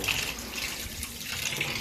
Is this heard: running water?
yes